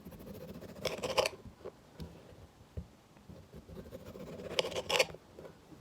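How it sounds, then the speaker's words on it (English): A knife cuts the sides off a large chunk of aloe vera leaf, producing two bursts of rasping, slicing scrapes with quieter scraping and small clicks between them. "We're gonna take this like huge chunk or whatever, and we're going to cut off the sides."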